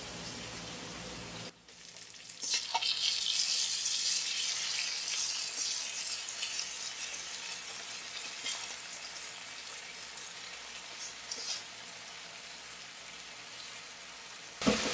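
Rice fries in a pan, a steady crackling sizzle that starts suddenly after a short quiet moment and keeps going close up, with occasional stirring noises and no talk.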